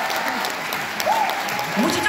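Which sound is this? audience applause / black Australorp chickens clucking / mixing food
audience applause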